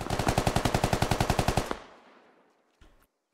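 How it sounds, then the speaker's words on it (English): A rapid automatic burst of about fifteen close, loud shots in the military game Squad, followed by a decaying echo and one later distant thump. "What a shot on Charlie Fox"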